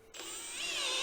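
Rivet gun setting a rivet during repairs on an old golf cart, a single close, rising mechanical whine lasting about a second.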